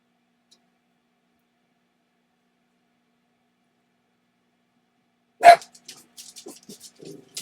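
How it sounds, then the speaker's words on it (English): After a long silence, chihuahuas let out a sudden sharp bark followed by a few fainter, scattered yips and snuffles nearby. "I have silly dogs, so they are going to bark at a leaf blowing by"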